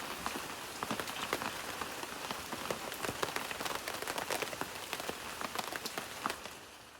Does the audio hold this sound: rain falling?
yes